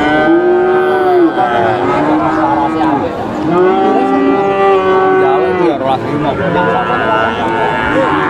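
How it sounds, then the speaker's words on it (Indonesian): Calves at a crowded cattle market at Pasar Wage Pati moo loudly and repeatedly, long drawn-out calls overlapping with the chatter of people nearby. "Rame sekali buat sapi-sapi pedetannya."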